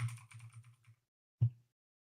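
A mechanical computer keyboard clicks through a quick run of keystrokes, a pause, then one sharper tap, close and fairly quiet.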